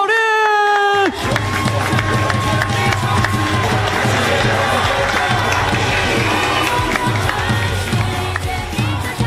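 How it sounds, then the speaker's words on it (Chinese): Baseball fans in a stadium cheer and applaud to welcome their head coach at a celebration ceremony, a loud sustained crowd roar with clapping after a brief tone, with an announcer's voice over it. "我们要用最热情的掌声欢迎洪一中总教练"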